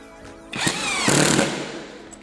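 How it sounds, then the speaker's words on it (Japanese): A cheap Makita-copy impact driver drives small machine screws, giving a short burst of rapid hammering whir that rises, briefly pauses, then rattles again before stopping. "じゃあ次、ちっちゃいネジ、小ネジ打っていきます。"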